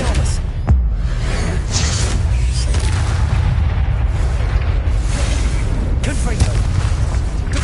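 Magical spell effects such as Confringo and Depulso in the video game Hogwarts Legacy, a dense run of booming blasts and bursts layered over continuous rumbling game sound, loud and close.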